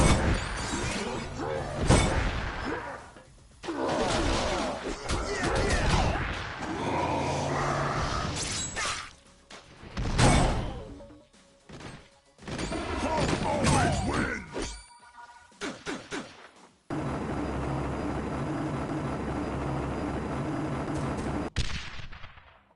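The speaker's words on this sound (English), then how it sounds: "I would have been Swiss cheese if you hadn't taken that helicopter out." Explosions and heavy gunfire burst repeatedly as a helicopter is destroyed during a battle in the video game Marvel Ultimate Alliance, loud crashes and shattering debris stacking up, ending in a sustained rumbling roar.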